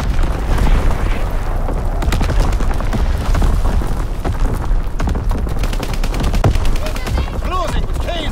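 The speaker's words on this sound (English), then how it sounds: "Firing primary battery." Heavy primary battery artillery and rapid gunfire in a multiplayer match of the video game Call of Duty: WWII, with dense booms and machine-gun bursts rumbling continuously, loud and chaotic.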